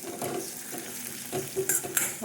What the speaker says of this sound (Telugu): ఉల్లిపాయ, టమోటా, జీడిపప్పు పట్టుకున్న ఈ ప్యూరీ అయితే వేసుకొని